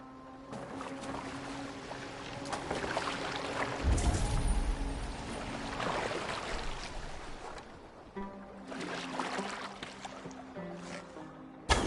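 A Viking longboat moving over water in Assassin's Creed Valhalla, with a steady wash of splashing waves and hull noise swelling and fading, moderately loud, under soft music and brief voices.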